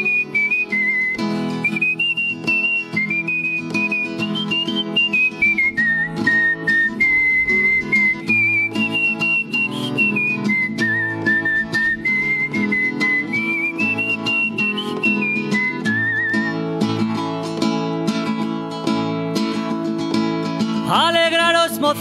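Someone whistles a lilting Spanish folk melody solo in place of a flute, the tune rising and falling in long phrases, close and clear for about twenty seconds.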